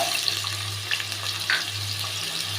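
Potatoes fry in hot oil in a wok for a dhokar dalna with a close, steady sizzle and crackle that stays fairly even throughout, with no voices.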